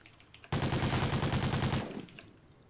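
Rapid automatic gunfire in an ASTRO Circuit esports match, a sustained loud burst of shots lasting over a second that then cuts off, with quieter game ambience before and after.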